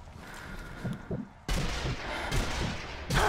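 Gunfire aimed at a fire demon in the Zombie Army Trilogy video game: loud, close shots punch in sharply, one big burst midway and another at the end, with scattered impacts and crackle between.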